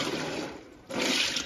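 Ice water pours and splashes into a cooler during home chicken processing, a short rushing flow that dips briefly before surging again, close and moderately loud.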